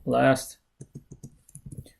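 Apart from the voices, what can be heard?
typing on a computer keyboard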